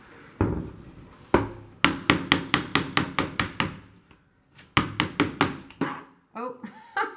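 A series of sharp metallic hammer taps driving a glazing pin into a stained glass panel, about a dozen in quick, steady bursts with a pause between groups, close by and loud.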